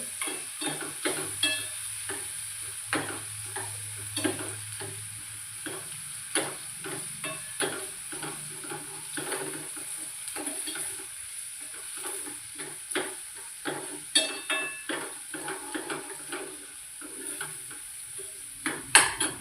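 Onion sautés in a pan for a vegetarian curry: a faint, steady sizzle sits under frequent scraping and clinking as a spoon stirs, growing busier toward the end, with no speech.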